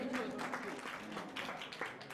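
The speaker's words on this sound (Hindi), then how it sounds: "जोरदार तालियां बजा करके आप सभी करते चले" A gathering at the annual chariot festival of a Jain temple in Rohini Sector 8, Delhi, applauds in a fairly soft, continuous patter, with a voice and some tonal sound audible beneath the clapping.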